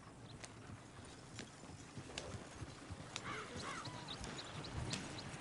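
Horse hooves clip-clop at a steady walking rhythm in the Red Dead video game, with light clatter, occasional faint snorts and soft ambient sounds, fairly quiet overall.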